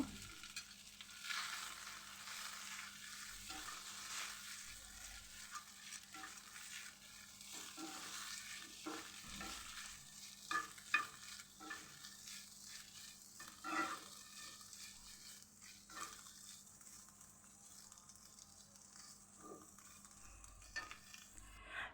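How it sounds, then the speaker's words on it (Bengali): Fish frying in ghee gives a soft, steady sizzle, with occasional stirring scrapes and light clinks, quiet and with no talking. "দিয়ে আমি একটু হালকা করে ভেজে নিব"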